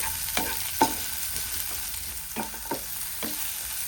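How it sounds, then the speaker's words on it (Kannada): Onion and garlic fry in a pan for Mangalorean-style crab sukka. A soft, continuous sizzle is broken by a few sharp stirring clicks, close and without talk. "ಹಾಗೆ ಒಂದು ಈರುಳ್ಳಿ, ಸ್ವಲ್ಪ ಬೆಳ್ಳುಳ್ಳಿನ ಸೇರಿಸಿ ಸ್ವಲ್ಪ ಫ್ರೈ ಮಾಡಿಕೊಳ್ಳಿ."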